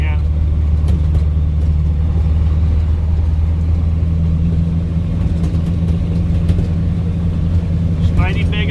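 A 1985 Ford F-8000 truck with a CAT 3208T diesel drones steadily from inside the cab while driving, a deep constant rumble with a faint air hiss near the end.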